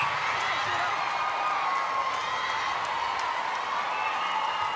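A large crowd at a Nissan Arena netball match applauding and cheering in a steady, dense roar that carries on throughout.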